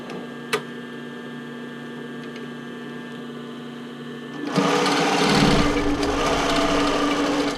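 A sewing machine zigzag-stitches stretch fabric on a sailor shirt pocket; after a few seconds of quiet room hum, the machine starts and runs steadily and fairly close.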